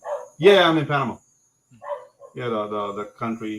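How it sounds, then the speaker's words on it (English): A dog barking, low and brief in the background, while people talk loudly over it. "sorry about the dog"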